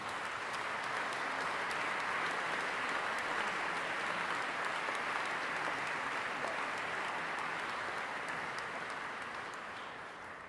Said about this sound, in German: einen kräftigen Applaus bitte.